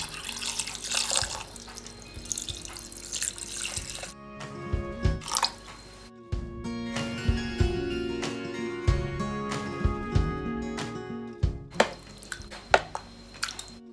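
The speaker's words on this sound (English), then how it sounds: "Pour cold water in it." Cold water from a tap pours into a bowl of raw chicken being soaked with lemon and vinegar, a steady close splashing and running with a brief pause and some clinks, no talk.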